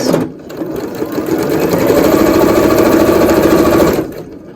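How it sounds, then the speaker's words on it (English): Sewing machine running a straight stitch on a cotton face mask, a loud, fast, even whirring burst of about four seconds that starts and stops abruptly, up close with no talking. "So you're just going to go ahead and do a straight stitch on this."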